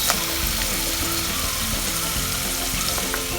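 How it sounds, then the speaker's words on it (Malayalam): Turmeric, fenugreek and chili powders frying in hot oil with curry leaves, a steady close sizzle that fills the whole stretch without pause. "കുറച്ച് മഞ്ഞൾപ്പൊടി ഇട്ട് നന്നായിട്ട് എണ്ണയ്ക്കകത്തുനിന്ന് പൊടികൾ മൂപ്പിക്കണം."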